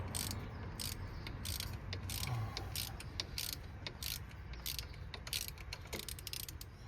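A ratchet clicks in quick repeated bursts while unscrewing a brake caliper hose bracket on a Citroën C5 or Peugeot 407, close and fairly quiet against low background noise.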